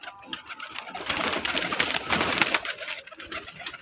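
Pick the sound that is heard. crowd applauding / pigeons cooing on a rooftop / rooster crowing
pigeons cooing on a rooftop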